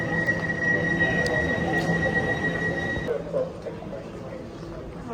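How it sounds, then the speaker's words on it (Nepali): A London Underground District line train is nearby, its high, steady electric whine holding for about three seconds before cutting off and leaving a low rumble. "गयो ट्रेन बाई बाई ट्रेन"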